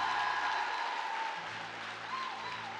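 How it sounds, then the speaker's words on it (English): Audience applause at a seminar-style event, a thin steady patter of clapping from a modest crowd, fairly faint and distant, fading slightly toward the end. "that was a very weak round of applause"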